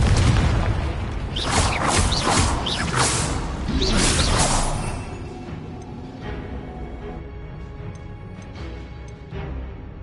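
Confringo fire spells blasting in Hogwarts Legacy combat, a loud run of whooshing bursts and booms crowding the first half, then fading to a quieter game background with scattered smaller hits.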